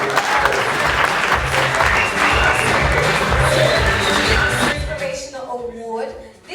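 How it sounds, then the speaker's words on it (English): Sustained audience applause at an award presentation during a finale ceremony, loud and even for several seconds before tapering off as a voice begins to speak. "I think he deserves a round of applause"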